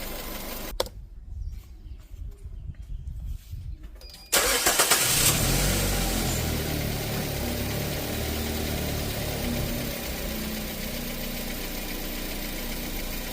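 A 2009 Nissan Tiida with a misfire fires up after a quiet pause, then settles into a steady, close idle with a rough, uneven undertone running on alone without talk.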